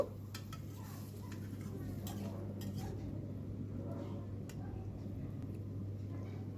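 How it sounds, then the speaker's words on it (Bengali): Malabar spinach stems being stirred with water in a pan, faint irregular clicks and scrapes of a utensil against the metal over a steady low hum, quiet and close. "জলটা দিয়ে ভালো করে পুঁই শাকের সঙ্গে এটা আমি মিশিয়ে নেব"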